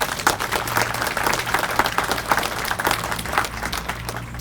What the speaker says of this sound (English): Can we have a round of applause for the Mayor?